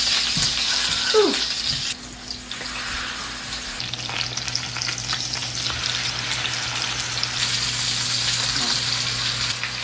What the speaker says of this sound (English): I seared both sides of the thighs for about 8 minutes each side